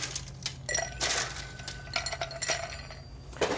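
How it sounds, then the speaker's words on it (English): Ice cubes are dropped into a glass while a Manhattan cocktail is being made, giving a run of bright clinks and rattles, fairly close and crisp, with no talking over them. "put some ice cubes in the glass,"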